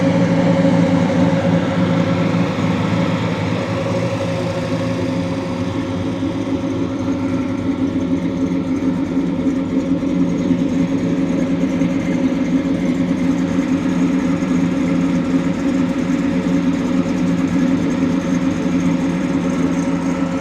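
A 1983 Chevy C10 truck with a dual exhaust and X-pipe idles steadily nearby, a deep, even rumble that holds for about twenty seconds with no talking.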